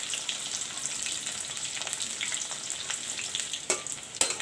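Cauliflower pieces fry in hot oil in a pan, giving a continuous close sizzle and crackle, with a couple of sharper clinks from stirring near the end.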